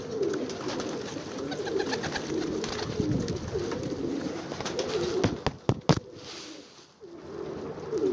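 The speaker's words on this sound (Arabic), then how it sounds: "هذا الحمام" Several Iraqi tumbler pigeons cooing continuously in soft low murmurs, with a few sharp clicks and flutters near the end.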